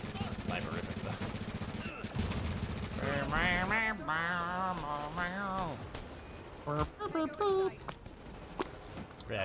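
Automated turrets fire in The Division, a shooter video game, in rapid bursts of gunshots mixed with game effects, while a voice talks over the shooting.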